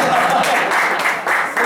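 Brief, dense applause rises from the audience at a Punjabi poetry gathering honoring a poet's recovery, a close, loud wash of clapping lasting under two seconds.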